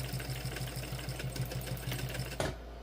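Sewing machine stitching a seam on a crossbody bag, a steady rapid run of needle strokes close by that stops abruptly near the end with a short thump.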